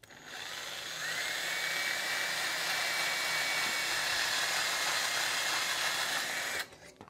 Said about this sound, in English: I'm going to drill into this backing board so I don't destroy my mat